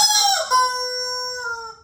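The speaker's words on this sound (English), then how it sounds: "we have one of my favorite prizes of all time, the screaming rubber chicken" A screaming rubber chicken toy squeezed once, letting out a single loud, piercing, sustained squawk that sharpens briefly and then holds a steady tone for under two seconds, close by with no talk.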